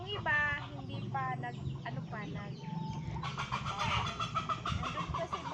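Several chickens cluck in short repeated bursts, fairly close, with a few higher squawks toward the end and a person talking over them.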